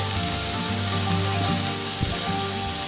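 Morels added to browned onions frying in a pan on a gas grill give a steady, close sizzle and crackle that runs without break throughout.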